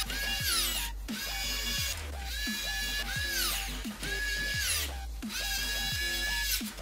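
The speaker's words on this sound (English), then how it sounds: "We need to install the rest of these screws that hold this AIO in place." A power screwdriver repeatedly whirs and winds up as screws are driven to mount an AIO liquid cooler in an AMD gaming PC build, several rising motor bursts in a steady cycle, close and clear.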